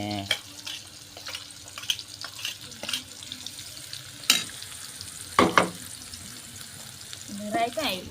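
Cumin, spices and chopped onion fry in oil for a whole-potato curry. A low sizzle runs under sharp clinks and scrapes of stirring, and a voice comes in briefly near the end.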